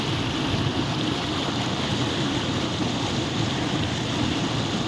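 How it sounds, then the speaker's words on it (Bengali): Fast-flowing river floodwater rushes past in a dense, unbroken roar, loud and steady throughout, with no voices. "এই দেখুন কি স্পিডে জল নামছে দেখুন"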